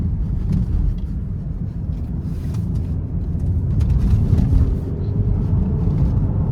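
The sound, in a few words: Mercedes-Benz GLE 350 3.5 V6 driving in sport mode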